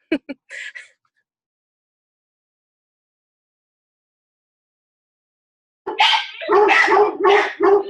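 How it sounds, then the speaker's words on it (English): Dogs bark indoors: a few quick yips at the start, then a long silence before a close burst of repeated loud barks at the end. "My dogs are going nuts."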